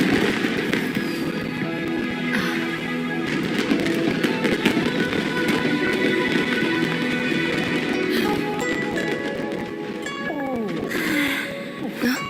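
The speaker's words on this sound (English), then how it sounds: "Way over there, a firework that looks just like a pig!" Fireworks pop and crackle in Genshin Impact, scattered bursts and sharp cracks over a dense, steady bed of festive game music and ambience.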